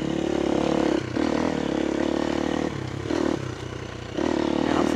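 A modified motorcycle with uncorked, free-breathing exhaust runs close by, its loud throaty engine note holding steady and dipping briefly between revs in a repeating pattern.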